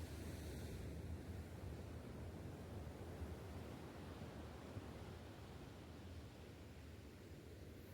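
Ocean surf rolls onto Puri beach, a broad steady wash of waves heard from a distance, low and constant with some wind rumble and no voices.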